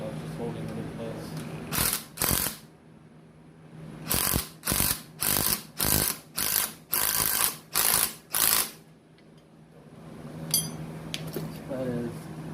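A ratchet wrench turning the strut nut on a 2021 Toyota Sienna, giving a few quick clicking bursts followed by a rhythmic run of about eight evenly spaced cranks, close and crisp, then quieter fiddling.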